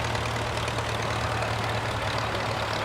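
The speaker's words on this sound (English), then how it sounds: "There's a Farmall tractor going by." Farmall tractor engine passing in a parade, a steady, loud low-pitched idle-like rumble with a noisy chugging texture that stays constant across the short stretch, with no speech.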